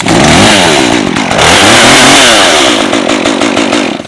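A Stihl MS 193T arborist top-handle chainsaw is warm-started by pulling the cord, its two-stroke engine catching and revving loudly up and down at close range, with no talking.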